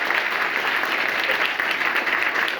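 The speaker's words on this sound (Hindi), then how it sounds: "बंडू का ताली बजाओ" Sustained applause from a group of students at a reasoning competition in a school in Baswapur, steady dense clapping for the whole stretch without pause, fairly loud and close.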